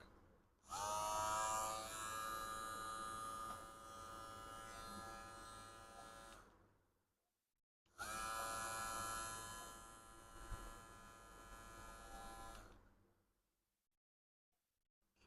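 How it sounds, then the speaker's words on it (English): A VGR V694 electric hair trimmer buzzes in two bursts of about six seconds each, a steady high-pitched whir with a short silence between runs. "Lastly, the hair trimmer."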